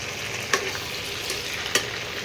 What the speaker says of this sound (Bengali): এখন ভাজাভুজি চলছে, পুরো রান্নাটা হতে এখন এইরকমভাবে মাংসটাকে ভাজতে হবে